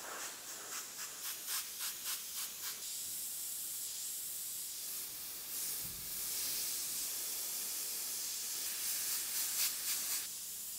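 Faint, steady airbrush hiss spraying paint for clouds, opening with a run of short rhythmic bursts and then settling into a long continuous spray.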